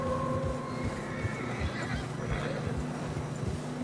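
A video game horse whinnies over steady ambient noise and low rumbling, with faint hoof clops and rustling underneath, all fairly close and continuous, on a snowy trail.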